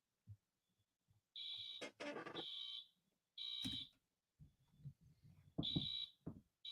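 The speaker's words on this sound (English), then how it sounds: "they're doing a fire alarm test at my house" A residential fire alarm under test sounds in loud, shrill electronic bursts of irregular length, separated by short gaps, with faint background noises between.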